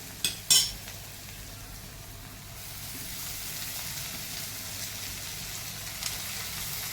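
Sliced radish tipped into a hot frying pan with soaked dal, beginning with two quick knocks, then a steady close sizzle of frying that holds for the rest of the clip.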